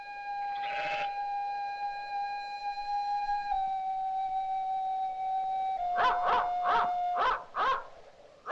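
A dog howls and whimpers nearby, first a long sustained tonal wail that shifts pitch, then a run of short, rhythmic yelping cries toward the end.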